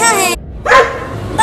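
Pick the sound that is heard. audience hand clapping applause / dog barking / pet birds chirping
dog barking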